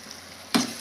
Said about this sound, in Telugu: నేనైతే టమాటా ముక్కలు వేస్తున్నాను